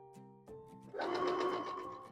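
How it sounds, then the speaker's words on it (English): A sewing machine stitches quilt pieces in a short, close, steady whirring run. The run starts after a few tonal beeps and clicks. "add the piece, and sew a nice scant 1/4 inch"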